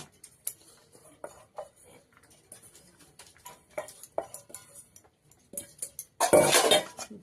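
Rice being served onto a dog's plate brings light, scattered clinks and scrapes of a spoon against dishes, ending in a louder clattering burst.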